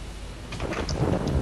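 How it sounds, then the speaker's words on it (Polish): Thunder rumbles in the video game Minecraft during Survival Games, a deep rolling roar with rain-like hiss layered over it, fairly loud and continuous across the moment. "Ale te pioruny nawalają."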